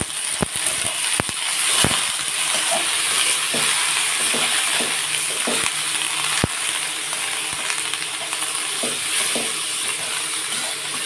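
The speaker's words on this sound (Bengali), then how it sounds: "পাতাকপি, যেটা বাঁধাকপি, সেটাকেও আমি কিছুটা ভেজে নেব" Cabbage sizzles in a hot pan with a constant crackle, punctuated by sharp, irregular clacks and scrapes of a utensil stirring against the pan.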